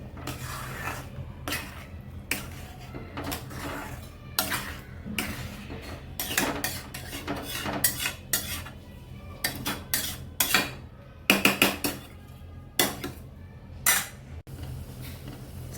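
A spoon scrapes and clinks steadily against a pan while palak paneer with spinach, paneer and kasuri methi is stirred, an irregular run of close metallic taps and rubbing scrapes with no talking.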